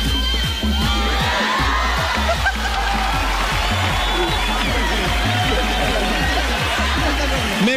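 A dense crowd of adults and children shouting and cheering in a public plaza at a Grinch farewell event, loud and continuous with scattered laughter and voices mixed throughout.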